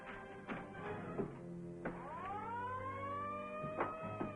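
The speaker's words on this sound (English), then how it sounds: "get the alarm" An alarm rings aboard a ship in a 1945 film serial, a loud wailing siren-like tone that rises and sweeps steadily over a low rumble, heard alone without talk.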